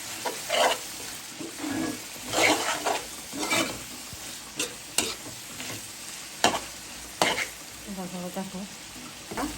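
Bottle gourd and potato cooking down with ginger, garlic, turmeric, chili, cumin and coriander in a pan, with intermittent stirring scrapes and light sizzling in bursts, fairly close, no voices.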